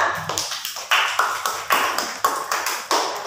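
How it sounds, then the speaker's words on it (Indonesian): A class claps for group 5 during a classroom presentation of expository texts, a crisp rhythmic series of sharp, close claps in evenly spaced bursts. "tepuk tangan untuk kelompok 5"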